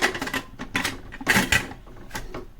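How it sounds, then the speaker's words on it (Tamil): A pressure cooker lid being fitted and locked shut: a series of close metallic clicks, clanks and scrapes in uneven bursts. "குக்கர் மூடியை க்ளோஸ் பண்ணிக்கலாம்."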